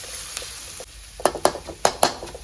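Egg and potato fried rice sizzles in a pan while being stirred, a soft steady frying hiss broken by several sharp spatula scrapes and clinks, close up and with no talking.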